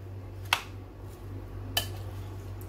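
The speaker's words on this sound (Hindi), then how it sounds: "प्याज डाल के भी मैं इसको अच्छे से मिक्स कर लूंगी।" Two sharp clinks of a spoon against a bowl while chana chaat is mixed with onion, spaced about a second apart over a low steady hum.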